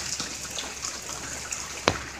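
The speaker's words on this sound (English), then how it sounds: "So right now it sucks, it's raining out, as y'all can see right now" Rain falls outside in a steady, close patter, a dense hiss dotted with a few louder drips.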